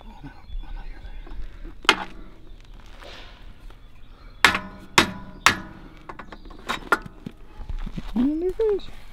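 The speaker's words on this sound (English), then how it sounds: "basically doing the heavy pounding" A hammer pounds a bushing with several sharp metallic strikes spaced unevenly, some in quick pairs, heard close and loud over background voices and workshop noise.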